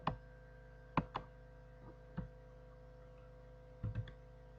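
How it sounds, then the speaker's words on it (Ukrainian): Keys clack sparsely on a computer keyboard while entering a formula element in Word, a few soft isolated taps and paired clicks spaced across several seconds over a steady low electrical hum. "Вводимо елемент з клавіатури."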